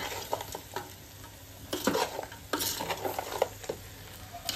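Goat head curry with chili powder fries and gets stirred in a pan, close sizzling hiss punctuated by repeated scraping strokes and light clanks of the spoon against metal, no voices.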